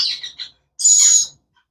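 Rainbow lorikeet chicks of a yellow colour form give a few short high chirps, then one louder sustained shrill call, close to the microphone with no talking.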